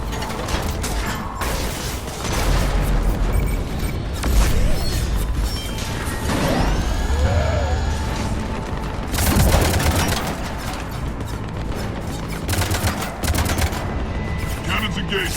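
Cannons arm and fire during the Omega mission in Mass Effect 3, a loud, dense wall of mechanical whirring, grinding and repeated booming blasts that runs almost without a break.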